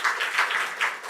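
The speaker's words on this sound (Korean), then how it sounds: "박수로 한번 환영하겠습니다" A church congregation claps to welcome a taekwondo instructor, a short burst of many hands applauding in uneven pulses, moderately loud and close.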